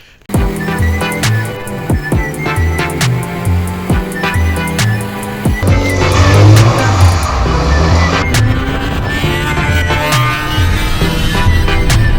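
A Toyota MR2 drives past close by, its engine loud and revving as it accelerates, with the rushing road noise growing fuller in the second half.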